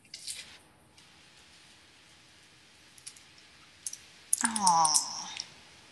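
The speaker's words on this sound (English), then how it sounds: "maybe I should stop clicking the pen" A few sparse clicks from a pen being clicked, faint and close, with a louder scraping burst near the end.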